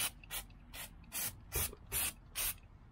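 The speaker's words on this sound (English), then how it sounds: "Let's clean the new ones, new discs with the brake cleaner" Brake cleaner sprayed onto new brake discs for a 1998 Toyota Starlet: six short hissing aerosol bursts in a steady rhythm, close and fairly loud, with brief pauses between each.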